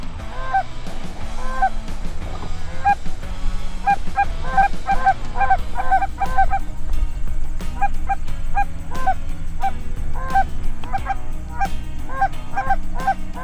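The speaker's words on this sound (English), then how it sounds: "That's a goose." A flock of geese honks repeatedly during an early-season goose hunt, loud overlapping calls arriving in rhythmic bursts over steady outdoor background noise.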